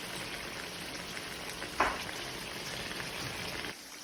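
Tofu with radish simmers and sizzles in a pan near the end of cooking, a soft, steady crackle with a brief clink partway through before the sound drops off abruptly.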